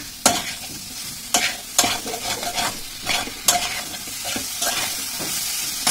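Two chopped tomatoes frying in a pan with potatoes and spices for a pea and potato curry, a steady sizzle broken by sharp spatula scrapes and clacks at an uneven rhythm, close and clear with no talk.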